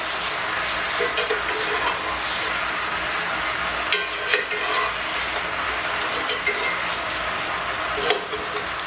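Sliced sweet potatoes fry in a pan with a steady, close sizzle, broken by a few sharp scrapes and clacks as the pieces are flipped.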